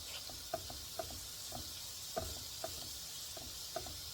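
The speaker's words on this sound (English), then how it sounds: "Skillet's still hot. And you want to cook this shrimp for about 2 minutes on each side" Shrimp frying in a hot skillet for jerk cabbage with sausage and bacon, a quiet steady sizzle broken by small regular pops and crackles, close and with no talking.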